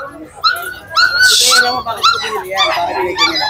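A French bulldog whines and whimpers in rising, wavering cries, broken by a brief sharp bark or yip, close and fairly loud throughout.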